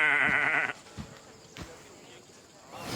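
A goat bleats once, loud and near, at the goat pens in Assassin's Creed Odyssey, followed by a few soft thuds and quiet background.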